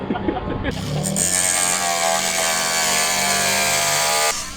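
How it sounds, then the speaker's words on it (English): An angle grinder cuts the front off a race car's airbox in a paddock garage at Bathurst, a loud, sustained high-pitched whine that starts abruptly after a brief moment of talk and holds steadily before cutting off. "now Doug's angle grinding the front of the airbox off"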